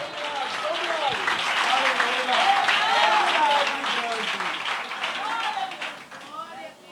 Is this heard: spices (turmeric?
no